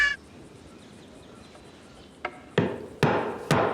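A hammer strikes a nail four times at growing intervals, each blow a sharp, loud metallic bang; the first tap is lighter.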